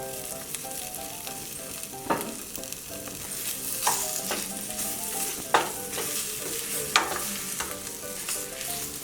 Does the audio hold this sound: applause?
no